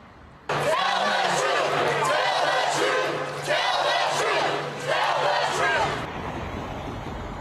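Protest crowd in Arlington yelling at a news crew, a loud sustained roar of many voices with surging shouts that cuts off abruptly near the end.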